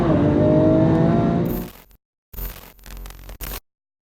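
A Lamborghini engine roars loudly through a tunnel for about two seconds and fades out, followed after a gap by two short, harsh bursts of noise.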